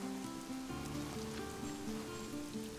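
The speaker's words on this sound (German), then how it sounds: "Und es regnet." Steady rain pattering in the Northgard strategy game, a soft continuous hiss running the whole time beneath sustained in-game music tones.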